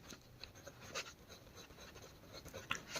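Quiet scratching of a pen or pencil writing out a math solution: short, close, irregular strokes with small pauses between them, and no talking.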